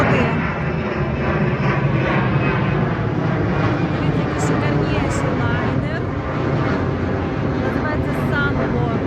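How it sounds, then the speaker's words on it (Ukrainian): A passenger airliner takes off near London City Airport, its engines producing a loud, steady broadband roar that fills the whole stretch, while people talk faintly underneath. "Дивіться, якраз літак злітає."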